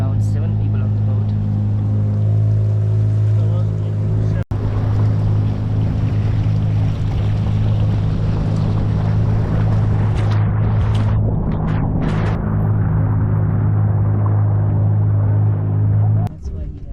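A steady low engine drone with water and wind noise from a boat ride on Kel Suu Lake in Kyrgyzstan, with some voices underneath.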